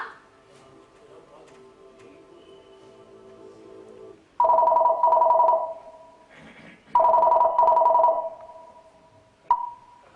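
Telephone rings in two loud, close bursts of electronic trilling a couple of seconds apart, following a quiet stretch with a faint tone, ending in a brief final chirp.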